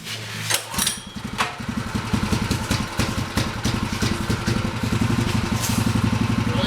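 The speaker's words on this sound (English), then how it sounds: "It had the square industrial motor muffler on it, which sounded like you're driving a garden tractor down the road" A small motorcycle engine fitted with a square industrial muffler starts and settles into a loud, rapid, putt-putting idle, close by and steady.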